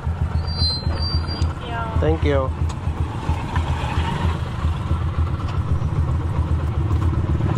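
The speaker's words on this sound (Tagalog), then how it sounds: "Ito yung ating traffic." Street traffic heard while riding in a passenger vehicle during a typhoon: a constant engine rumble and road noise with a brief clatter. A person speaks over it.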